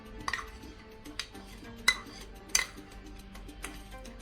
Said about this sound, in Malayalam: നമുക്ക് യോഗട്ട് എല്ലാതും നമ്മൾ ഈ ഫ്രൂട്ട്സിൽ മിക്സ് ചെയ്യാം